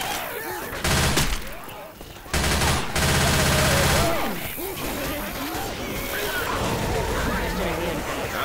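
Rapid video game gunfire bursts in loud fusillades, broken by short pauses and crashing impacts, with a player shouting over the action.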